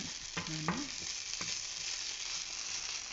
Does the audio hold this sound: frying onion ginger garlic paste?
yes